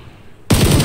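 A machine gun opens up in a shooter video game, a loud burst of rapid automatic fire that cuts in suddenly after a quiet moment.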